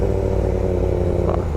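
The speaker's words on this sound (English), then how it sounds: "Little revs for that kid over there." A Yamaha R6 sport motorcycle revs briefly, its engine a loud, close, steady drone with a rough mechanical edge, and no voices.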